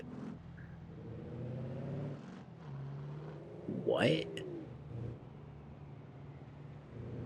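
An engine fitted with a Toyota Supra transmission hums steadily in BeamNG.drive, then briefly revs and rises near the middle before settling back to idle, while someone speaks over it.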